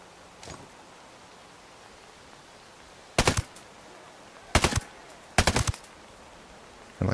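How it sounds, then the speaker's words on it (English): Video game gunfire rings out in three sharp bursts of rapid shots at even intervals, with a lone faint shot earlier and another burst starting at the end, loud over a quiet background. "We are going to shoot them."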